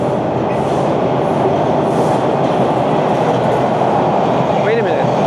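A Toronto subway train passes close by with a steady, loud rumble and rattle of wheels on track that lasts throughout, with a brief squeal near the end. People talk faintly underneath.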